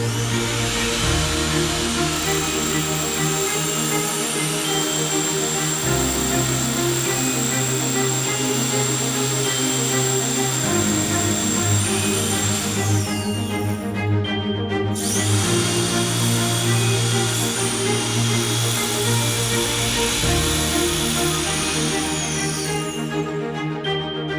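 A power drill bores through the stone tower floor of a château for bathroom pipes, a loud steady whine held throughout with pitch shifts as the bit catches and eases, the motor briefly cutting out partway.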